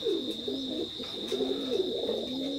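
Imported-bloodline teddy pigeons give continuous low, rolling coos close by over a steady high electrical whine, with no voices.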